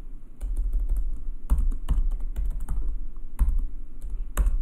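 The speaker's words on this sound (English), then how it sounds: "let's just type hello world, print" Keys clatter on a computer keyboard in irregular bursts of close, crisp taps, with short pauses between words as a line of code is typed.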